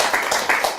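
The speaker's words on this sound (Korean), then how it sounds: "우리 에리카 여사님 환영하는 열렬한 뜨거운 박수 한번 부탁드립니다" An audience claps briskly to welcome a guest at a gathering, a short run of rhythmic applause close by.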